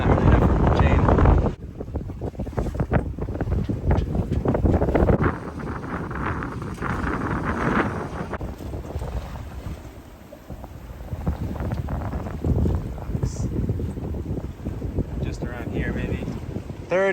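Strong wind buffets a sailboat riding in a deep, narrow cove off the south coast of France, a steady roaring rush with bursts of gusting against the microphone, and a voice talking over it.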